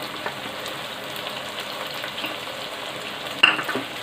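Chicken frying with garlic and crushed coriander in a pan, a continuous fine crackling sizzle at close range, with one sharper clatter near the end and no talking.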